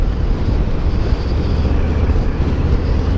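Wind blustering past a vehicle on an after-work drive, a dense low rumble and buffeting roar that stays loud and steady, with no talk.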